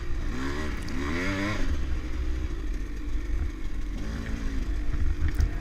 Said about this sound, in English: Guess I need to start revving my engine up louder when I get behind somebody like this.